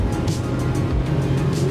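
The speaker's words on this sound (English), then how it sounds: "Whoa, the exhaust note is so good, and this is the stock exhaust note." Deep, steady rumble of a Hyundai i20 N Line's stock split exhaust, heard close and continuous with a low pulsing drone and no speech.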